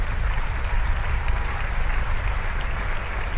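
An audience at a gathering of musicians breaks into sustained, loud applause, a continuous dense patter of clapping hands filling the space.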